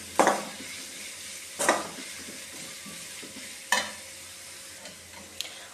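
Two medium onions fry in oil in a pan, a low steady sizzle broken by three or four distinct spatula scrapes and stirs, close but fairly quiet, with no one talking.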